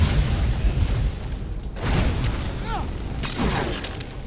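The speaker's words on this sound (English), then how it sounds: "There's another bomb." A bomb in Skyrim goes off with a heavy rumbling boom, followed by softer crackling debris and a second burst, loud over constant low game noise.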